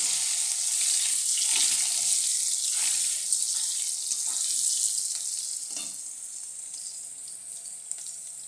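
Potatoes sizzle and fry in a pan of oil for a Bengali vegetable curry with pumpkin and drumstick, a steady close hiss running throughout with soft stirring and clinking, no voices.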